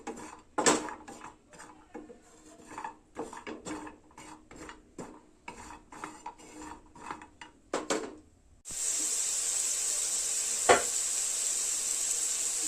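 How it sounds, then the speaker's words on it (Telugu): Dried coconut fries in a pan: a run of sharp spatula scrapes and clinks against metal over a faint crackle, then a loud, steady sizzle takes over as the coconut hits the hot pan, with one clink. "ఇప్పుడు ఎండు కొబ్బరి వేయించుకుందాం"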